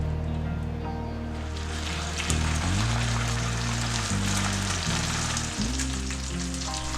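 A mustard-coated stuffed pork loin sears in a nonstick pan with a loud, dense, continuous sizzle, the crackle shifting slightly as the meat is moved, with no voices.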